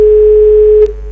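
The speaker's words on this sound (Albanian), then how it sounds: "Është kaputur telefonata." A loud steady phone dial tone rings out after a dropped call on a radio health broadcast, one continuous pure tone that breaks with a brief click near the end, then continues quieter.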